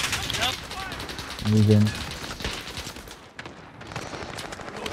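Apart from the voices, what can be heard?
gunfire in the video game Call of Duty Warzone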